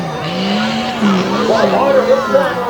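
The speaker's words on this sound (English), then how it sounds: "the action on the track is red hot as Kevin Hicks takes the green and heads into the first full turn" Monster truck engine roaring steadily on a dirt track, rising and falling as it heads into a turn, with a continuous loud drone and a commentator talking over it.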